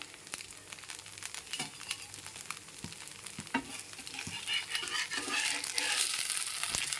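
Mudakathan dosa cooking on a pan, a steady crackling sizzle with scattered sharp ticks and scrapes that swells louder toward the end as the dosa is flipped.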